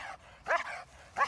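A K9 training dog barks at a decoy, two sharp close barks about half a second apart, with a quieter yelp or whine between them.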